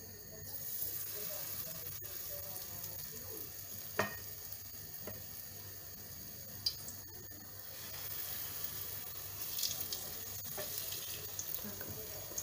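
Zucchini fritters frying in hot oil in a pan, a steady close sizzle running throughout with a few sharp clinks and scrapes of a utensil against the pan.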